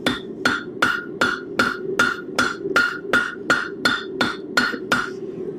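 Hot steel hammered on an anvil while forging a round bottle opener, a steady series of about thirteen sharp, ringing metallic blows evenly spaced, close and loud with no talk.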